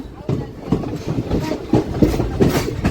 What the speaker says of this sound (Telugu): స్టేషన్లోకి అలా ఎంటర్ అవుతుంది మన ట్రైన్